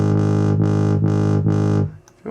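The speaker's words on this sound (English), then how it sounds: "So if we want a wobble that's a crotchet," Dubstep synth wobble bass pulses four times at a crotchet rate, a loud distorted buzzing tone swelling and dipping evenly, then cutting off abruptly near the end.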